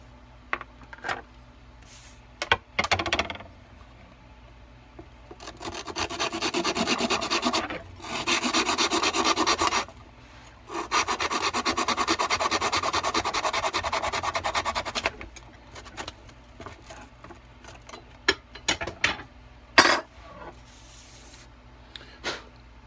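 Cutting a bowfishing arrow shaft to a 33 inch mark: two sustained bursts of steady rasping, sawing friction, each lasting several seconds, close and fairly loud, with scattered clicks and handling knocks before and after.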